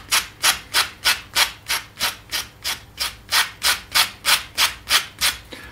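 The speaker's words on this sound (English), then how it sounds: "220 grit sanding sponges from the beauty store" Rhythmic back-and-forth sanding with a 220 grit sanding sponge, about fifteen even scratchy strokes at a steady pace, close and clear with no speech.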